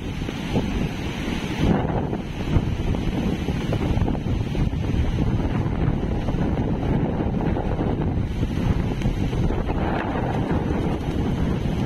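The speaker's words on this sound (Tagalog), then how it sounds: "Yung bugso ng hangin." Strong typhoon wind gusts roar continuously across the microphone on the coast at Dinahican, Infanta, Quezon, a loud buffeting rush with surging peaks and no letup.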